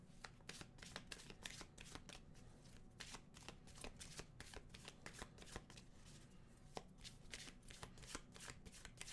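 Animal oracle cards are shuffled in a steady, quiet, close-up riffle of rapid flicks and clicks that lasts several seconds with no talking.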